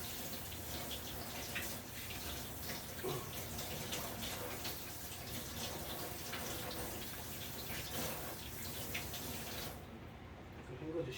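An activated carbon water filter cartridge is rinsed under running water, a steady close splashing flow that continues throughout and cuts off just before the end.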